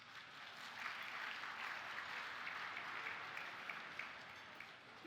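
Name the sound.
conference audience applauding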